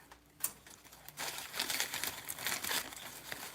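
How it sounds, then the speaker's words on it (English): Scissors snip through artificial flower texture pieces, making faint, close crinkly cuts and rustles in a quick irregular series with no talking. "I'm gonna snip off these texture pieces"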